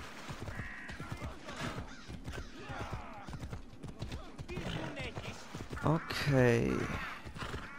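Horse hooves clop along in Assassin's Creed Odyssey, with a horse neighing loudly near the end and crows cawing, while someone talks over the game sounds.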